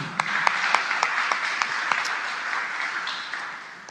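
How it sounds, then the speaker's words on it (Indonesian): A church congregation at an evening revival service claps together, a broad steady wash of applause with a few sharper hand claps standing out, heard moderately loud without speech. "Tepuk tangan kepada Tuhan."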